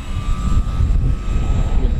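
A Dynam Boeing PT-17 radio-controlled model biplane comes in to land, its engine giving a steady, loud whine over a broad rushing drone for two seconds, with no voices.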